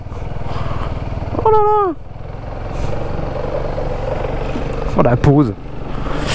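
A BMW R1250RS motorcycle engine rumbles continuously as it is ridden, steady and fairly close, while a man exclaims over it twice.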